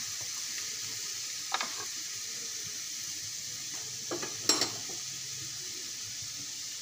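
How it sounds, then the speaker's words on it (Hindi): Sliced onions sizzle in about three tablespoons of hot oil in a pan, browning for aloo paratha; a steady soft hiss runs throughout with a few brief louder spits and clatters, no voices. "और इस ऑयल के अंदर हम देखते हैं हमने ये प्याज ली है, हमें उस प्याज को ब्राउन करनी है।"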